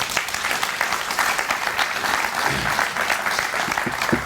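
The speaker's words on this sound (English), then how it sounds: "Let's give her a round of applause" A room of guests at a Boy Scouts of America distinguished citizen award reception applauds, a dense, even round of clapping that holds steady throughout with no one speaking.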